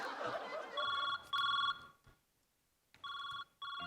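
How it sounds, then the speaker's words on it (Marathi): A telephone rings in clear electronic bursts, two pairs of tones separated by a short silence, fairly close, following a moment of background noise. "लाई फोन आलाय"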